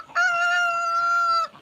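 A rooster on a rural South Dakota farm crows once, loud and close, one sustained call of about a second and a half with no talk.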